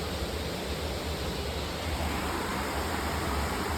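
Small streams flow near a lake in the monsoon hills around Mussoorie, giving a steady broadband rush of running water, continuous and fairly even, with no voices.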